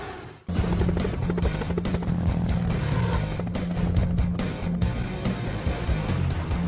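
A helicopter flies with a steady loud rotor and engine drone and a fast rhythmic blade chop, starting abruptly after a brief silence and holding a constant level throughout.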